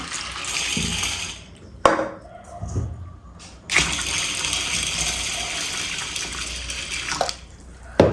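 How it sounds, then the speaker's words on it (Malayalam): Water pours in steady bursts onto a kilo of dried corn kernels set to soak for homemade corn flour, close and loud, with short pauses between pours and no talk. "നിറയെ വെള്ളം ഒഴിച്ചു കൊടുക്കണം"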